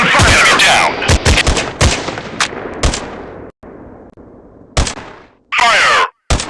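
Gunfire in an FPS shooting war game on Android: loud, close bursts of rapid shots and single cracks, with short pauses and sharp decaying tails between volleys.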